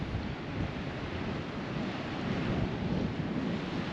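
Steady, blustery wind roars across the microphone on the Cornish coast between Prussia Cove and Marazion, a constant low rumble with a hint of surf beneath, unbroken for the whole stretch.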